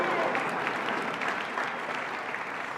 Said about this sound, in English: You can clap, don't be uncomfortable,